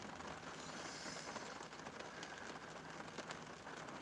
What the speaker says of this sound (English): I can hear it, every drop beating down on the surface of the car